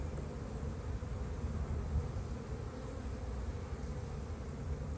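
Honeybees hum in a dense, continuous low drone from an opened hive in spring, the buzzing steady and close with no voices over it.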